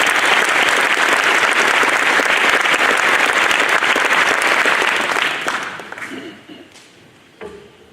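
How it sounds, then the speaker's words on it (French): Loud, dense applause from an audience at a New Year's greetings ceremony, continuous for about five seconds before tapering off into scattered claps and quieting. "vous pouvez les applaudir"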